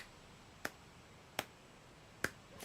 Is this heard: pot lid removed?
no